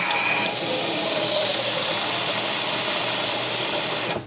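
Tap water runs steadily into a bowl of rinse water for peeled, cored apples, a constant close hiss and splash that continues for several seconds and cuts off at the end.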